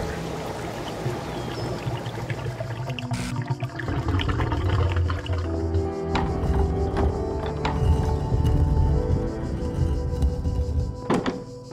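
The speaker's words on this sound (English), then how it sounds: "Doing as such causes the water level to drop and a secret passageway to open to the star." Water drains from a pool in the video game The Talos Principle as a secret passage opens, a gushing, pouring rush with low rumbling and a few heavy thunks, steady and fairly loud throughout with no talking.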